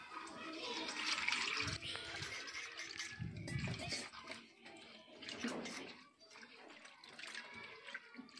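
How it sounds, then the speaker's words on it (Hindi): Fish being washed by hand in water for a kauwal fish curry, with steady splashing and running-water noise, fairly close and continuous throughout. "मछली धो लेते हैं।"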